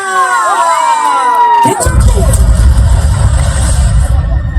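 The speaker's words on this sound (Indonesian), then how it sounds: "Kita berikan aplaus yang meriah untuk tim vokal grup dari Kabupaten Sidendreng Rapang" A crowd at the closing ceremony of the PGRI South Sulawesi sports and arts week in Sidrap cheers for a vocal group team from Sidenreng Rappang, rising from scattered whoops and whistles into loud, dense shouting and applause.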